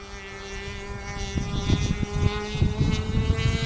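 A small Alpha 40 light aircraft climbs out after takeoff, its steady propeller engine drone holding a constant tone and gusting louder toward the end, with no talk.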